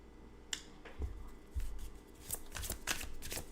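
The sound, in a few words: shuffling an oracle card deck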